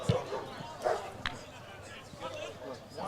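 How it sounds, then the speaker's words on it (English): A dog yips and barks a few times at a local football match, short sharp calls mixed with the murmur of the crowd and a commentator talking over the top. "That's John Dungate bothering dogs again."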